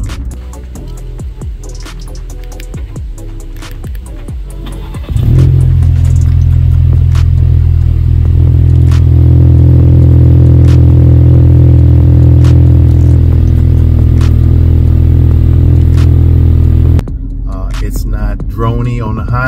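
A 2022 Ford Maverick pickup truck engine starts and settles into a loud, steady low exhaust rumble that holds for about twelve seconds, then drops off abruptly.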